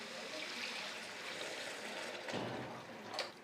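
Water is poured into a pot of biryani rice, producing a faint, steady trickling wash that runs throughout, swelling slightly near the end, with no talk.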